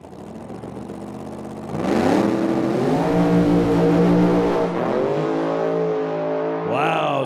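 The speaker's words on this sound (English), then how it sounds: "some violent tire shakes starting at about the 60-foot mark and lasting right through the first couple hundred feet" A Chevy pickup truck launches in a drag race at a Medicine Hat, Alberta drag strip. A loud close engine idles, then roars up in pitch with shuddering tire shake and gear changes before revving again near the end.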